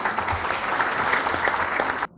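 Applause for students honored in Gaziantep for their LGS exam success, a lively crowd clapping steadily at fairly loud level, then cutting off abruptly near the end.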